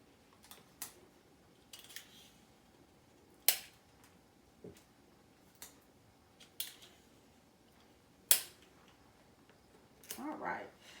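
Paper tape is torn off in short pieces while preparing a sterile dressing change, a series of brief sharp rips and snaps spaced a second or two apart in a quiet room.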